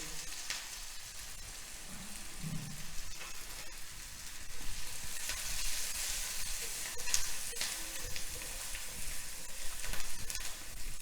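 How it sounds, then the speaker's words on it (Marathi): Finely chopped onion sautés in a pan, a soft, steady sizzle with faint crackle that grows slightly louder partway through, with a brief low thump early on. "कांदा बारीक चिरलेला कांदा घालायचा आहे आणि कांदा थोडासा परतला की मग हळद घालायची"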